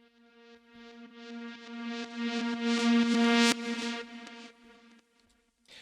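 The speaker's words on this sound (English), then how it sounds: "I've recorded like one of these, just one of those notes with a load of reverb on it" A single sustained synth tone swells from nothing, growing brighter and louder before cutting off abruptly, its reverb tail running backwards into the attack.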